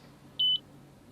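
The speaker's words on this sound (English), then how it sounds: "the oven timer beep looks like this and sounds like this" An oven timer gives one short, clean, high-pitched beep against near silence.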